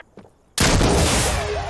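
Gunfire in the video game Insurgency: Sandstorm, a sudden loud, sustained burst of shots that starts after a brief quiet lead-in and fills the rest of the moment, with no voices.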